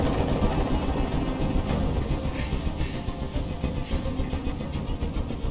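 A helicopter hovering nearby in the game Detroit: Become Human, a dense, loud, rumbling rotor drone that fills the scene without a break, with no voices present.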